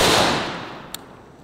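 A single loud AR rifle shot at a gummy bear target outdoors: the blast opens the clip and decays over about a second, followed by a faint sharp tick.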